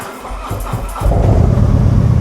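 A Ducati motorcycle engine turns over and catches, settling into a steady, loud idle rumble close by.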